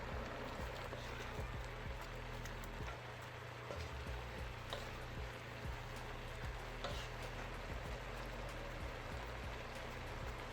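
Shrimp chopsuey vegetables with cabbage and broccoli stir-frying in a pan, giving a steady, loud, close sizzle with light scraping of stirring throughout.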